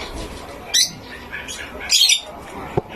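Pet birds squawking in a home aviary, two loud harsh squawks about a second apart, close by, followed by a short sharp chirp, with no talk over them.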